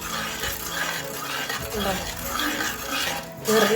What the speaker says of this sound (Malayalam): ഇളക്കുവാണ്. അടി പിടിക്കാതെ നോക്കുക.